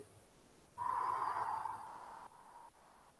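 A slow, close, audible exhale through the mouth during a qigong exercise, a breathy rush lasting over a second that tapers off, in a quiet room.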